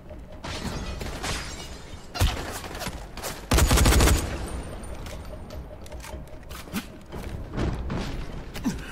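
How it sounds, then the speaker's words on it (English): Gunfire rattles in the zombie game Dying Light, a sharp loud burst cutting through clattering bursts and smaller cracks scattered across the scene. "Are you just fucking shooting bullets?"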